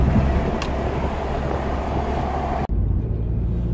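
Jaguar X-Type (2001-2009) accelerating in fourth gear at about 50 km/h, a steady close engine and road drone inside the cabin that cuts off abruptly, then continues more quietly.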